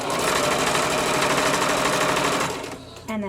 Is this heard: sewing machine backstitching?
yes